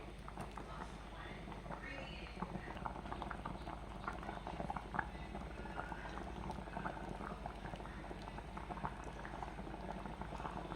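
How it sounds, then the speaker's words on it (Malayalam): A pot of thick fish curry bubbles steadily at a rolling boil, with continuous popping and blurping close up, a voice faintly in the background. "മീൻകറി നല്ലോണം വെട്ടി വെട്ടി തിളച്ച് വരുന്നുണ്ട്"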